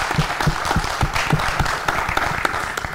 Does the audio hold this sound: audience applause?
yes